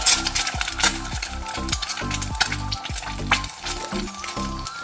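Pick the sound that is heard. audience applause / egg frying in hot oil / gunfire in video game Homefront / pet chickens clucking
egg frying in hot oil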